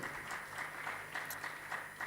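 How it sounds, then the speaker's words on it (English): A seated audience at a panel on workplace inclusion for persons with disabilities gives a brief round of applause after a presentation; the clapping sounds soft and somewhat distant and lasts only a couple of seconds. "Please, a round of applause."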